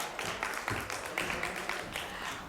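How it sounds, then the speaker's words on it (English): Applause from a conference audience at the WLSA 2023 event for Rochelle D'Souza, a dense, steady patter of many hands clapping at moderate distance throughout, with no voices over it. "Give her a much louder applause, Rochelle D'Souza."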